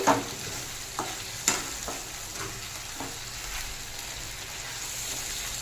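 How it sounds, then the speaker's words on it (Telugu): Chicken frying in a pan as it is cooked into a dry fry, a soft continuous sizzle broken by a few sharp stirring scrapes and clinks near the start. "మన చికెన్ బాగా ఫ్రై లాగా తయారవుతుంది"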